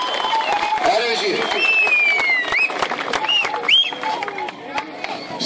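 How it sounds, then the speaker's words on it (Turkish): Crowd at a public gathering in Tekman applauding the town's mayor, with dense clapping, whistles and chatter close by while voices talk over it. "Tekman Belediye Başkanımız Sayın Ali Sayın Fırat'a işini alkış alalım dostlar"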